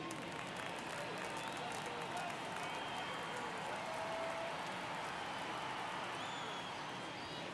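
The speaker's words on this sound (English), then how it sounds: "These fans, they are ready to cheer about something." Stadium crowd noise in the baseball video game MLB The Show 24 at a Texas Rangers versus Seattle Mariners game, a steady dense roar of fans murmuring and cheering, moderately loud throughout.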